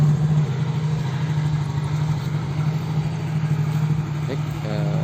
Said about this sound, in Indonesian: Saya nyalakan motor mesinnya.